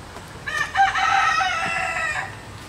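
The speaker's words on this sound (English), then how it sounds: "Even the rooster agrees." A single rooster crows a loud, clear cock-a-doodle-doo over faint background noise.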